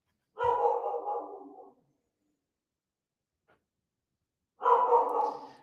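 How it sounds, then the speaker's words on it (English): A dog's two long, muffled barks or howls separated by a few seconds of silence, moderately faint and heard alone. "My dog is going crazy right now."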